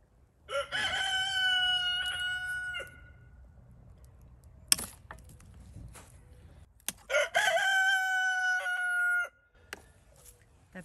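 A rooster crows twice on a garden homestead in growing zone 6B on the first day of spring. Both loud, drawn-out calls are heard close by, with quiet knocks and rustling between them and no talking.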